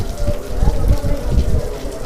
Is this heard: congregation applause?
no